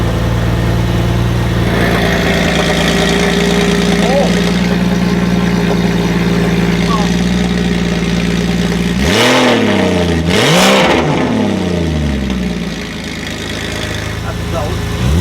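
A Toyota Soarer SC400 runs from a cold start, its engine idling steadily and loudly, then revving twice in quick rises before settling back toward idle, with people talking over it.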